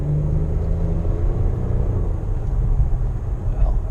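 A 2016 Hyundai Genesis with a V6 engine pulls away from a stop, its engine heard from the cabin as a steady low rumble that holds for several seconds.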